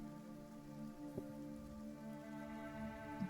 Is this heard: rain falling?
yes